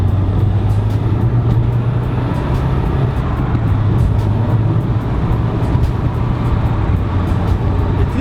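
A Renault Megane RS225 hatchback drives through corners, heard from inside as a constant loud engine and road drone with low rumble, steady throughout and with no talking.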